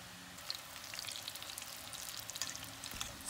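Eggplant slices fry in a pan with oil, giving a steady soft sizzle and crackle with faint pops, heard close with no talking.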